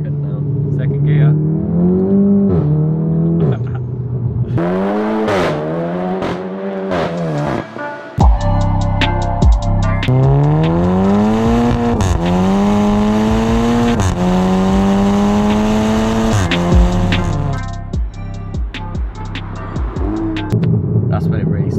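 Modified VW Golf GTI Clubsport Edition 40 with a loud Remus exhaust, heard from the cabin as the engine revs and pulls hard through the gears, its rising note swelling loudly while people talk.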